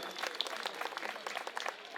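Applause from a crowd at a political rally in Delhi's Adarsh Nagar, a steady dense patter of clapping lasting a couple of seconds at moderate distance, with voices mixed in.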